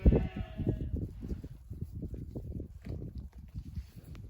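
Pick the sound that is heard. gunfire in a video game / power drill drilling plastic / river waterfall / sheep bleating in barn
sheep bleating in barn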